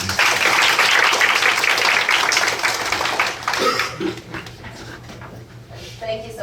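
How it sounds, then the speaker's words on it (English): Audience applause welcoming Professor Gonzalez before an anniversary talk on gravitational waves, a loud burst of clapping that thins and fades after a few seconds, with a voice entering near the end. "A warm applause to welcome Professor Gonzalez."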